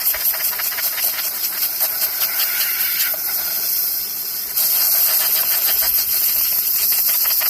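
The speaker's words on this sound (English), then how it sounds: "if you really get close with the steam, it will leave like traces" A steam cleaner blows a loud, continuous hiss over a chainsaw during cleaning, jumping briefly in intensity partway through and staying close and steady throughout.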